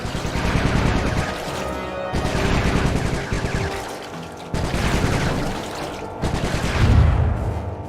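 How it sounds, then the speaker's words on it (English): Gunfire in the video game Sly 3: Honour Among Thieves comes as dense, rapid bursts of loud shots in several volleys separated by brief pauses. "Nice shooting, Bentley."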